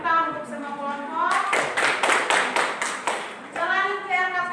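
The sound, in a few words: classroom clapping for all groups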